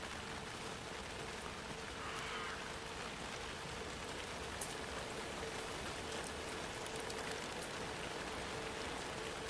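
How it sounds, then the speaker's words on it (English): Steady rain falls in the video game Alan Wake 2, a continuous, even hiss of drops that stays at a constant moderate level throughout without breaks. "Oh, I can see the rain now."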